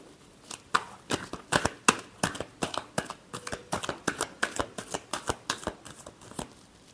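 A deck of tarot cards is shuffled by hand, giving a rapid, rhythmic series of crisp flicks and snaps close to the listener, with no talking over them.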